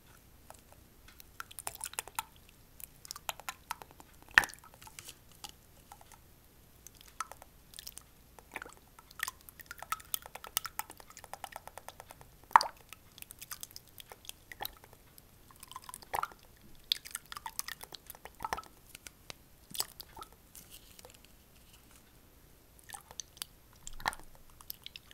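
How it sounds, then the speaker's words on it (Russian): Ash-and-water soap mixture with pressed rose bubbling in a pot, giving scattered soft wet pops and drips at an irregular pace, close and fairly quiet, with no talking. "Оно прикольно булькает."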